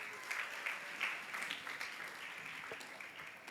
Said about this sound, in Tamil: கைத்தட்டி வரவேற்கலாமா?